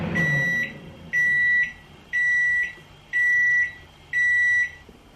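A kitchen microwave finishing a batch of rice gives five loud, evenly spaced electronic beeps, each lasting about half a second, with nothing else heard.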